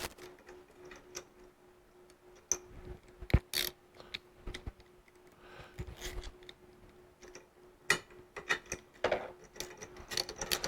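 Wrenches snug bolts on a stand-up jet ski steering plate, giving quiet, irregular metallic clicks and ticks in bursts, with brief scrapes and taps in a hushed workshop.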